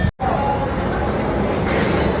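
Steady rumble and rattle of a Mumbai local commuter train bound for Churchgate in motion, continuous and fairly loud throughout, with a brief dropout near the start.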